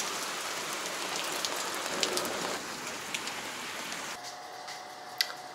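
Hail pounds on a house in a dense, steady patter of close impacts, with a few sharper louder hits standing out and a slight change in texture partway through.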